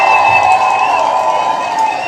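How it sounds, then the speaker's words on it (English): Audience at a live show applauding and cheering, a loud, dense crowd wash that stays steady for about two seconds before easing slightly. "Show him another round of applause."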